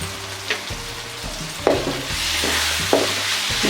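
Turmeric and chili powder being stirred into a sizzling vangibath masala in a pan, with spoon scrapes and clicks over a steady fry, close and moderately loud.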